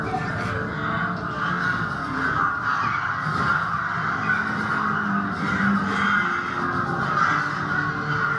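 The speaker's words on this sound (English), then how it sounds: "I made the crows as loud as possible" A loud, dense chorus of crows caws continuously as a sound effect in a haunted attraction room, many overlapping calls forming a constant raucous wash of sound.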